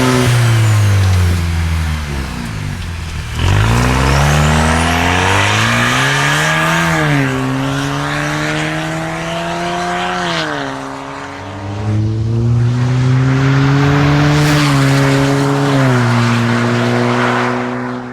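A car engine fitted with a Borla exhaust system revs loudly and steadily, with deep droning blasts that rise and fall in pitch through several throttle sweeps, close and with no talking.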